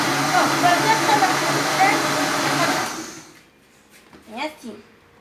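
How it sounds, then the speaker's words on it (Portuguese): An old electric blender runs loud and close with a dense, steady motor whir, then cuts off, leaving brief quiet handling sounds. "É um liquidificador já antigo"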